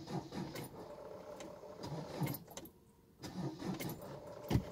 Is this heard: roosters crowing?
no